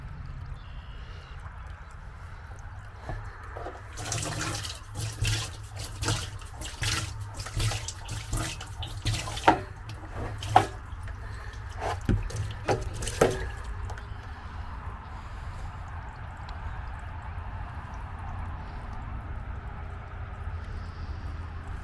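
Water from a long garden hose pumped a little uphill, a steady rushing flow with brief splashy bursts and surges in the middle of the stretch, continuous and fairly close.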